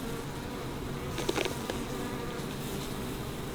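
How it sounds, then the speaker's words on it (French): A young swarm of honeybees buzzes in a dense, continuous drone, with a few individual bees flying close past, loud and steady throughout. "Ça, c'est un jeune essaim de l'année."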